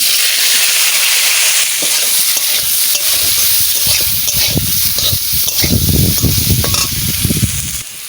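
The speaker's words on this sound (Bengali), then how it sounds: "যে তেল আছে ওই তেলে আমি এবারটা কচুটা দিয়ে দিচ্ছি" Taro pieces hit hot oil in a pan and fry, starting as a hiss and building into a loud, bubbling, crackling sizzle that grows denser toward the end.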